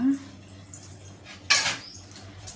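Leftover cooked rice is packed into a school lunch box and the lid snapped shut: faint scraping over a low hum, then one sharp, close clatter of the lid, with a small knock near the end.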